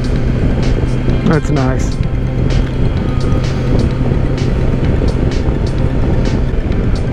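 A 2021 Kawasaki Versys 1000 SE LT+ motorcycle is ridden at speed with a steady, loud engine drone and wind rush, plus a brief rising rev sweep near the start. A rider speaks briefly over the engine.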